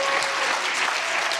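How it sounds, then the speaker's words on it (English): An audience bursts into a round of applause for a guest at an interview event, a dense, steady wash of clapping hands heard up close and alone with no talking. "Give this man a round of applause"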